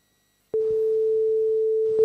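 A steady pure electronic tone from 440 Hz and 442 Hz sine waves starts abruptly after a short silence and holds at an even level, humming like two nearly matched pitches sounding together.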